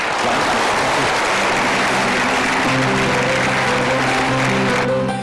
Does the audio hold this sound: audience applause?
yes